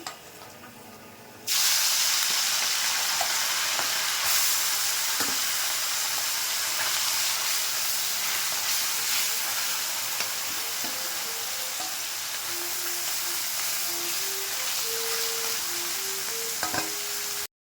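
Small mourala fish frying in hot refined oil, a steady loud sizzle and hiss that starts suddenly as the fish go in and carries on, with occasional stirring clinks and faint tones.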